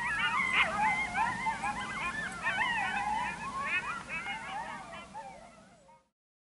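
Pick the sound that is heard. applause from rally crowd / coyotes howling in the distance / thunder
coyotes howling in the distance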